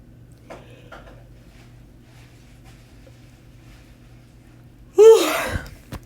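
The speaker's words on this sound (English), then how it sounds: "I had a yawn there for a second" A single loud yawn near the end, a drawn-out breathy exhalation with a rising vocal tone, heard alone after quiet room hum.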